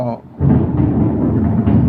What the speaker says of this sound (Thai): ฝนตกฟ้าร้องนะครับ